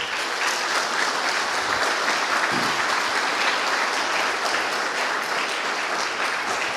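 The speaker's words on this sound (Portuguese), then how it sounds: "Então, pode aplaudir." A church congregation claps steadily and densely for several seconds, a continuous wash of applause with no talking over it.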